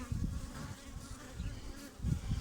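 Anatolian honey bees inside an opened hive compartment drone in a steady, low, close buzz, with small swells in loudness as bees move near.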